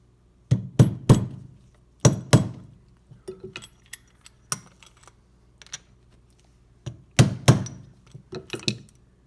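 A metal socket smacks a stuck pin on a Sea-Doo Speedster Mercury Sport jet pump, giving sharp, close knocks in quick clusters of two or three with short pauses between.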